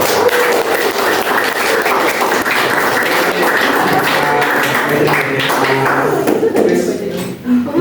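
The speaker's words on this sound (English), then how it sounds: "Please give applause." A small group claps during a classroom conversation exercise, fairly loud and close, with scattered taps and thuds and a brief dip near the end.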